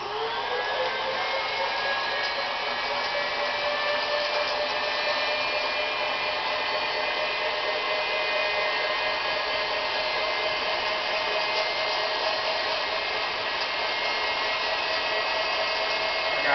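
An electric mixer whips egg whites for a lemon meringue pie, a loud, steady, even whir that runs without a break and without talk.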